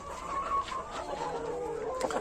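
Ornamental chickens cluck in a coop, with a steady layer of soft, overlapping bird calls that continues throughout.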